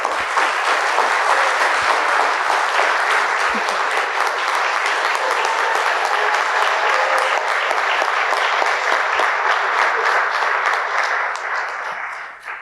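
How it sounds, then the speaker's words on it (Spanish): A crowd at a book launch breaks into strong, sustained applause, dense clapping holding at a steady loud level for the whole stretch and easing only at the very end. "Para él pido un fortísimo aplauso."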